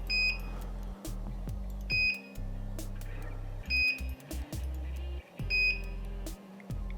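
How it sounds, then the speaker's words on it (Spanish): A Jaltech JAL-808U receipt printer with its lid open emits repeated short electronic error beeps at a steady interval over a low mechanical hum, with no voices. "si abrimos la tapa también nos va a dar un error y lo van a manifestar también con un pitido"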